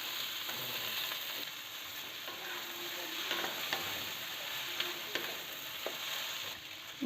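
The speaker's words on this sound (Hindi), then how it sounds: "प्याज हल्का फ्राई हो गल छे" Onion frying in a pan for vegetable khichadi, a faint steady sizzle with soft scraping and clinks of a spoon stirring at intervals.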